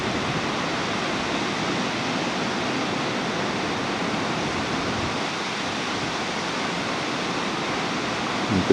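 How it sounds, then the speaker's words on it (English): Water flows out of the ground in a cave near Ljubljana, Slovenia, as a steady, loud, broadband rushing that continues unbroken like a small waterfall. "this water that's coming out down here"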